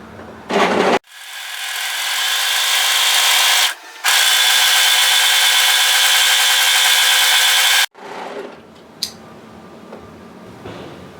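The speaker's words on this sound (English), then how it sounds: "just overlock tidy that edge" An overlocker serges the centre back seam edge of fabric in two long bursts of loud, continuous mechanical whirring, separated by a brief pause, followed by quieter handling sounds and a click.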